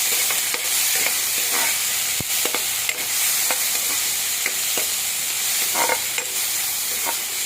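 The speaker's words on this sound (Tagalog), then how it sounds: "Kaya lang natin mag-brown yung ating sibuyas." Onions sauté in a hot pan for squid adobo, a constant close sizzle broken by frequent spatula scrapes and clicks as they are stirred toward brown.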